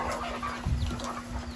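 Chickens clucking, soft scattered clucks close by over a steady hum, with no voices.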